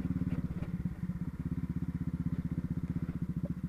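Steady, fast thudding exhaust pulses from a Honda CB Twister 2019 on a dirt road, heard close up and running evenly at moderate volume with a faint rattle, and no voices over it.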